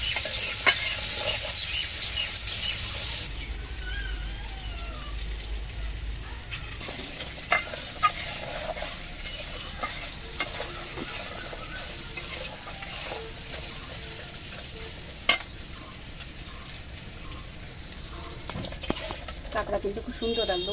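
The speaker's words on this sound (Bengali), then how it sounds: "কাঁকড়াগুলো ভালো করে ভেজে নেব।" Crabs frying in a pan and stirred, a continuous bright sizzle with occasional sharp clicks and scrapes of the spatula, close and steady.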